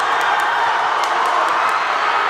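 A crowd at the Leavitt Winter Carnival surges in a steady, dense roar of cheering and shouting from many people, loud and continuous throughout.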